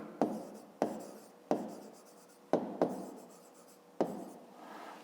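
A pen scratches across paper as math sums are written out, in six distinct strokes, each a sharp tap followed by a trailing scratch, close and fairly quiet without speech.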